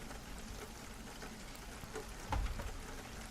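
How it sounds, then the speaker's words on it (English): Soft, steady rain hisses quietly in the background as a faint, even wash, with one slightly louder patter midway and no voices. "the rain was like really, really, really soft, but I can always lower the volume to it if it's too loud"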